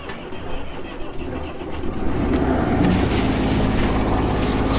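A boat's outboard engine turns over at the dock and settles into a steady, loud, close rumbling idle.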